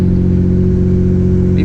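A restored Mitsubishi 3000GT VR4 engine idles high and steady, a loud, close, even drone with a constant pitch and no breaks.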